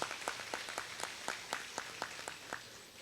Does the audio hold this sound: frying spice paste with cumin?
no